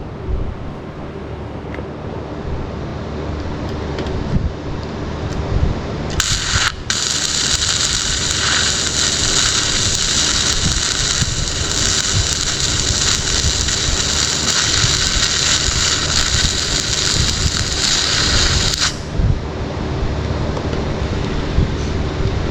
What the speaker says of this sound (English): so I'll let you see the screen while I'm welding